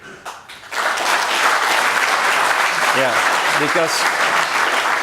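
Audience applause fills the hall to welcome the partners at a blockchain ecosystem plenary, broad steady clapping starting abruptly after a brief spoken word and sustained throughout, with a faint voice briefly heard over it.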